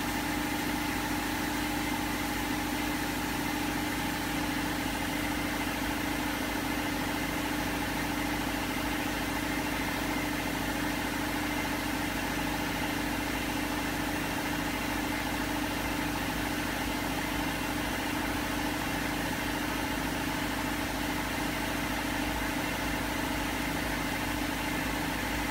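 A freely spinning air bearing in a workshop gives a steady, unbroken mechanical hum with fixed tonal whine, constant and alone throughout with no talk.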